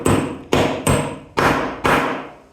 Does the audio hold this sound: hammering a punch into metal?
yes